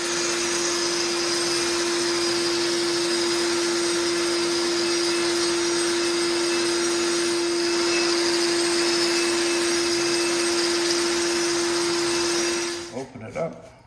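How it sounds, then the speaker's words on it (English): Large shop vacuum hooked to a Hercules dust shroud, a loud, steady roar with a fixed whine that runs unbroken for about thirteen seconds before cutting off and spinning down. "Just hooks right to the big shop vac."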